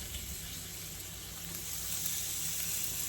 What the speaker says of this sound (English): let's get these chicken breasts into our super hot pan. Okay, and we'll do it the seasoned side down. Nice, good sizzle.